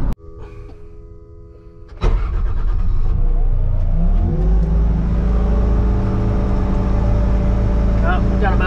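A car driven fast near a culvert construction site, starting after a quieter moment with a sudden loud engine roar that stays close and sustained as it accelerates.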